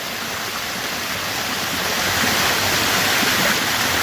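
Main falls on an Arizona trail, a loud, steady broadband roar of cascading water filling the whole stretch, close by and unbroken, with no voices.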